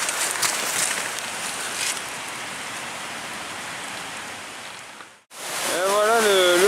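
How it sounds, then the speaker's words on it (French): Mountain stream flowing along a hiking trail near a footbridge, a dense, steady wash of rushing water close by, briefly cut off before resuming with a voice speaking over it. "Et voilà le ruisseau"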